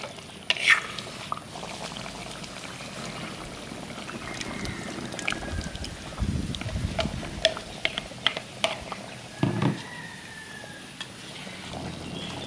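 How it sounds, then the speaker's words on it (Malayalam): Chicken curry with roasted ground coconut paste bubbles in a pot, soft intermittent simmering and stirring scrapes, faint and close, with a few sharper clinks and splashes. "അരപ്പ് ചേർത്ത് നല്ലപോലെ തിളച്ച് വന്നിട്ടുണ്ട്"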